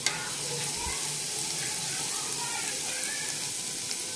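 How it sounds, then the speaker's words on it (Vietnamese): Shallots and garlic fry in a little cooking oil in a pan over low heat, giving a steady, moderate sizzle with occasional light clicks of stirring. "Mình cho hành tỏi vô mình phi,"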